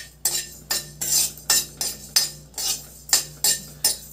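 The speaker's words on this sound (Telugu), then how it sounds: "బాండి వేడెక్కిన తర్వాత ఇది ధనియాలు, జీలకర్ర కొద్దిగా ఫ్రై చేసుకుందాం" Coriander seeds and cumin dry-roast in a heated kadai, stirred with a spatula that makes about nine steady, evenly spaced scraping clinks against the metal, close and clear with no talking.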